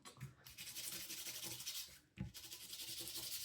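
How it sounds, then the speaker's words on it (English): Sandpaper rubs steadily over a small plastic part from a 1:32 scale model silage trailer kit, a continuous close scratchy sanding with a brief pause midway, heard alone. "Quick going over once again with the sandpaper."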